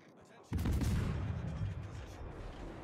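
A sudden, heavy boom of battleship main guns in World of Warships, one sharp blast followed by a rolling low rumble that slowly fades.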